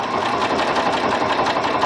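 A Janome Continental M7 sewing machine stitches through twelve layers of denim, a steady, close, continuous mechanical whir with a fast rhythmic needle beat and no voices.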